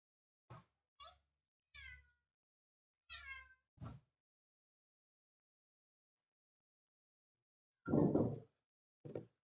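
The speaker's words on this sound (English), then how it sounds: "so you don't hear the cats meowing" A house cat meows several times in short, close calls with uneven gaps, followed after a pause by a longer, louder yowl and one final brief meow.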